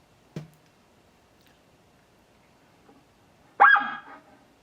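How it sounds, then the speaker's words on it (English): A sharp click, then after a pause a single loud, abrupt elk warning bark rings out against near silence. "That sharp, loud, one-note bark that stops your heart."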